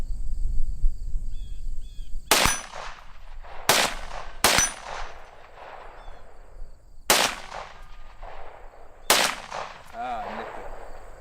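Five sharp gunshots from a pistol fitted with a red dot sight, fired at a 10-inch target outdoors, spaced irregularly about a second or more apart and loud against quiet background with faint insects.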